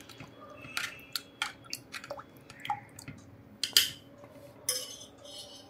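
Buttermilk is poured off freshly churned butter in a quiet kitchen, giving faint drips and splashes along with sharp clinks and taps of a metal utensil against the vessel. The sounds come in irregular bursts, with no talking.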